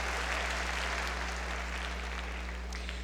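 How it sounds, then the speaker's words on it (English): Applause from a commencement audience honoring graduating students, a steady dense wash of clapping over a constant low electrical hum, fairly quiet and distant. "Round of applause to you on that"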